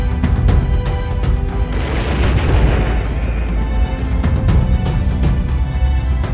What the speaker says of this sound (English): You also get to work with multi-barrel rocket launchers